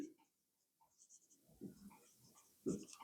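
Pen strokes on paper while a statistics problem is worked through: faint, scattered scratching, with a few louder bursts near the end.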